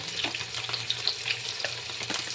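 Chicken browns in a frying pan, giving a close, even sizzle with crackling pops and occasional scraping stirs over a faint low hum.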